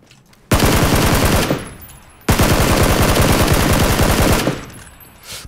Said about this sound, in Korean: 총소리 총소리.